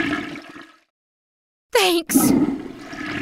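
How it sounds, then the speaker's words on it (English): A toilet flushes loudly and close by in a quiet bathroom, with a rushing burst that breaks off briefly and then surges again into a roaring swirl. A voice talks just before the silence that precedes the flush. "Flush once if no, twice if yes."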